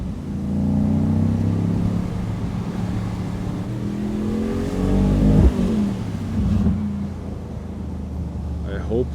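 A 2026 Mercedes-AMG Mythos PureSpeed V8 pulls hard, the engine note rising through revs with a sharp burst midway, heard from inside the car over wind noise while a voice talks over it.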